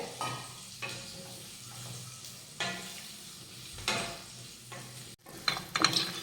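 Chopped raw mango being mixed with spices in a pan for methamba: soft, irregular scraping stirs with a faint sizzle underneath and a few sharper knocks near the end.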